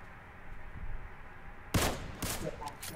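Gunfire in PUBG Mobile: a sudden loud burst of shots breaks a quiet stretch, followed by a second cluster of reports, with faint voices around it.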